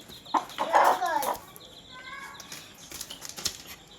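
A pet hen clucks agitatedly and flaps her wings in a loud burst at close range. Scattered quieter clucks and rustling follow over a few seconds.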